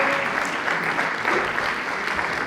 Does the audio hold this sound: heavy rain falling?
no